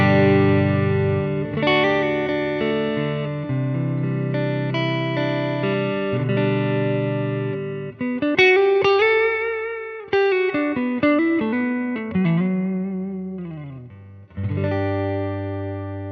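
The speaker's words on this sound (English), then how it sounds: "So let's start with some clean tones, and we'll start on the neck pickup." A PRS SE NF3 electric guitar with a clean tone on the neck pickup plays sustained chords and single notes with effects and reverb, loud and continuous with no voices.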